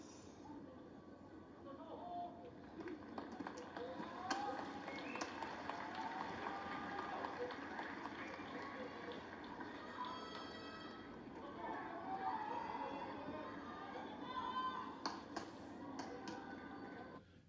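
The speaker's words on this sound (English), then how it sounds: "turn on some crowd noise" Sumo arena crowd during a Juryo division playoff bout at the November tournament, a steady broad murmur of many voices with scattered shouts and swells, continuous and moderately loud throughout.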